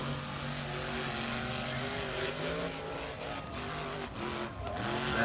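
Monster trucks racing at a rally roar continuously, with loud engines droning and revving at close range and the pitch shifting as they accelerate through the run.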